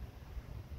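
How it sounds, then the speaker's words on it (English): Wind blows outdoors across a microphone, a brief low rumbling buffet of gusty noise with no voice. "It is a little bit windy out."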